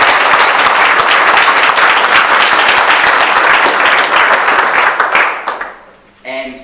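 Loud, sustained applause from an audience at an EV industry awards ceremony fills the room for about five seconds, then tapers off and breaks into a brief noisy patch near the end.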